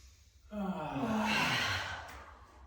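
A long, soft exhalation during a yoga session, one steady breathy out-breath swelling and fading over about two seconds, close and alone.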